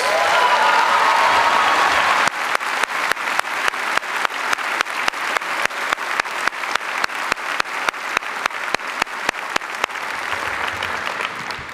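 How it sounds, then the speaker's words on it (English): An audience applauds at a high school graduation ceremony with loud, sustained, dense clapping from many people that runs for about twelve seconds in a large hall. "How about a round of applause?"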